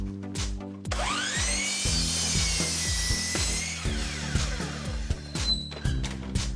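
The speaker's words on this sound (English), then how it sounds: "now I'm going to cut the 2x4s for the side panels, and they are 10 inches long, and I'm going to do the same thing here at the miter saw" A miter saw spins up and slices through 2x4 lumber for an outdoor storage bench, its loud rising whine and cutting roar running several seconds over a rhythmic thumping background, with a sharp clatter at the end.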